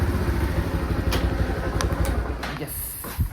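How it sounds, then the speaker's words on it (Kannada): A motorcycle is brought to a stop and parked outside a wedding venue, its engine chugging steadily up close, with a few metallic clanks and knocks near the end. "ಇವಾಗ ಒಂದು ಸೆಕೆಂಡ್ ಬೈಕ್ ಪಾರ್ಕ್ ಮಾಡ್ಬಿಡ್ತೀನಿ"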